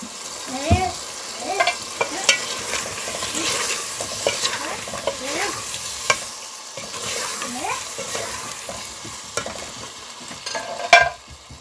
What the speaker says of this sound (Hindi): इसको हम भून लेंगे इसमें मैंने डाल दी है हाफ टी स्पून हल्दी मिक्स कर लेंगे